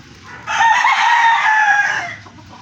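A gamecock rooster crows loudly and close by, one long drawn-out call that rises and holds before trailing off, with quiet background before it, at a backyard breeder.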